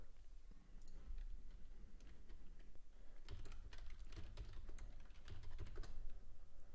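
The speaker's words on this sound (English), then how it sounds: "If you do hear typing, that's just me making alerts." Rapid typing on a computer keyboard during a live day-trading session, close, quiet clicking keystrokes in irregular bursts, growing busier partway through, over a low room hum.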